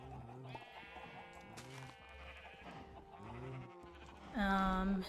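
Sheep in Minecraft bleat several times in quick succession, close and clear over soft background sounds, with one louder bleat near the end, during shearing.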